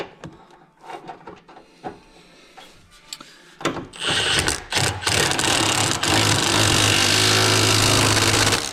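An impact wrench works on a bolt down in a car's engine bay, first a few short clicks and bursts, then a loud, sustained buzzing hammer run lasting several seconds close up.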